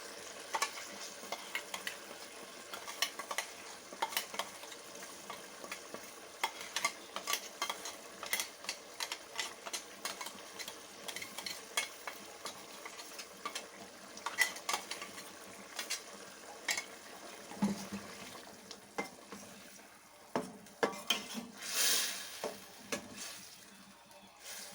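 Fried masala paste is stirred into a pan of Chettinad chicken gravy, making a quiet, steady sizzle broken by repeated scraping clicks of the spoon against the pan, with no voices.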